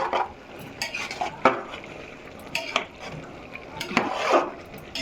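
A spoon scraping and stirring raw rice together with mutton masala in a pot for a Telugu-style mutton pulao, giving intermittent soft clinks and gritty scrapes at an irregular pace, close and moderately quiet with no talking.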